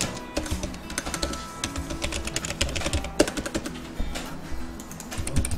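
Rapid, uneven keystrokes on a computer keyboard as AutoCAD commands are entered, a dense run of close clicks and taps with no talk over them.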